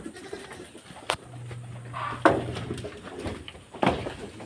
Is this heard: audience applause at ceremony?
no